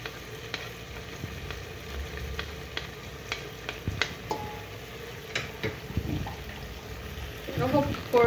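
Food browning and catching on the bottom of a pot before water is added for pressure cooking: soft sizzling with scattered ticks and scrapes of stirring, growing busier toward the end.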